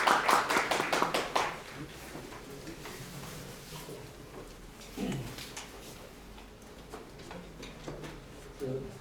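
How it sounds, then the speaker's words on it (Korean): Audience clapping at a human rights center launch event in a press center hall, welcoming a speaker; a brief burst of claps in the first two seconds fades into quieter room sounds and scattered taps. "박수로 맞이해 주시기 바랍니다."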